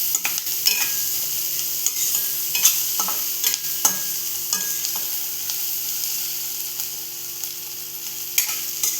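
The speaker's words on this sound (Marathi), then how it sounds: "आणि मग टाकणार कढीपत्ता. एकत्र असं परतवून घेऊया आपण." Curry leaves with turmeric sautéed in a pan, a steady hissing sizzle with frequent light scrapes and taps from a stirring spoon, close and continuous with no talk.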